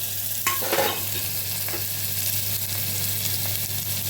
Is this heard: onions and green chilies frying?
yes